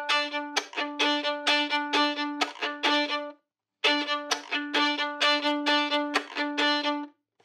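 Violin chop, a percussive bowing technique, drives a hip hop instrumental: steady rhythmic scratchy bow strokes over sustained tones, in two phrases separated by a short gap, close and clear.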